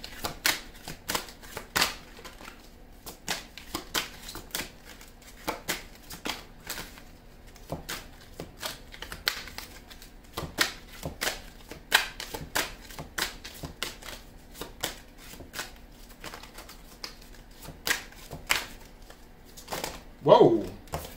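Tarot cards are shuffled by hand in a long run of soft, irregular riffling taps and flicks, fairly close and quiet, with a brief louder rustle near the end.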